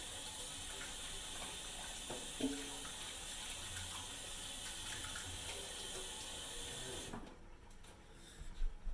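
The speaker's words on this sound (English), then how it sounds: "make sure to wash your hands, and I'm going to do that now" Hands being washed under a running kitchen tap: a steady close gush of water runs for about seven seconds, then stops, followed by a few soft handling knocks.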